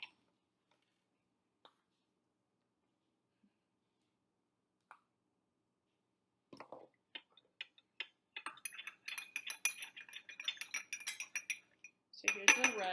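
Colored liquids stirred in a row of glasses, with a spoon clinking and scraping against the glass in quick, busy bursts that grow louder and denser toward the end after a few faint isolated taps.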